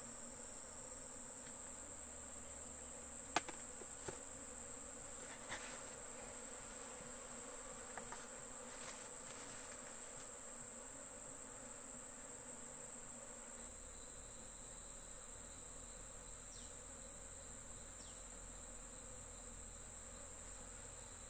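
Honey bees humming steadily around an opened hive box during honey harvesting, a continuous close drone with a few faint clicks and taps of handling and no talk.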